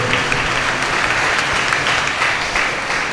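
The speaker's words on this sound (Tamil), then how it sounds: "அவருக்கு நாம் அனைவரும் கரங்கள் தட்டி நம்முடைய பாராட்டுக்களை தெரிவித்துக் கொள்வோம்" A church congregation claps their hands in sustained applause during a Tamil Catholic thanksgiving Mass, a dense, steady, fairly loud patter of many hands lasting the whole stretch without speech.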